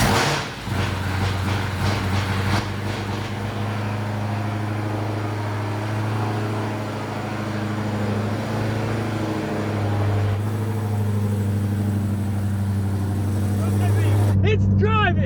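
A manual-swapped Dodge Demon drives under its own power with a steady, low engine drone and whine close by for the whole stretch, a person speaking briefly at the end.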